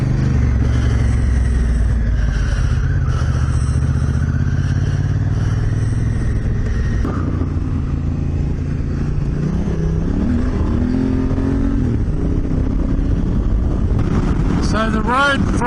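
A motorcycle engine drones steadily on an outback dirt road, with heavy wind buffeting the microphone and shifting revs and gear changes throughout.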